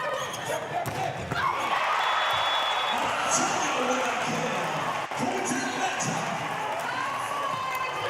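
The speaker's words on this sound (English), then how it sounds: "The crowd just oohing and awing after that kill from Montano." An arena crowd at a LOVB Nebraska versus LOVB Atlanta volleyball match oohs and aahs after a hard kill, a sustained swell of many voices filling the hall, with a few sharp knocks near the middle.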